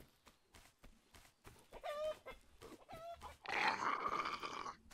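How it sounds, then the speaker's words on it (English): Chickens cluck and squawk in the video game Survive The Nights, a few close, fairly loud calls rising into a harsh burst near the end, over faint game background noise with no talking. "Should I kill some chicken?"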